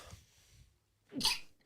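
One sharp sneeze bursts out near the end after a brief soft intake of breath, quiet overall and heard alone.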